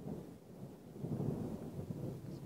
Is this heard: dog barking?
no